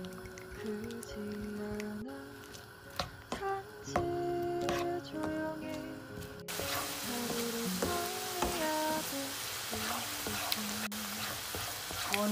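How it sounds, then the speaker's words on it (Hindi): Onions frying in a pan until light brown for a ridge gourd dish, a steady close sizzle with occasional stirring scrapes and small pops throughout. "ऑनियन को लाइट ब्राउन करना है हमने।"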